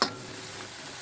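String beans for adobong sitaw sizzle steadily in a hot pan as vinegar goes in, a brief, close, hissing crackle after a sharp initial splash.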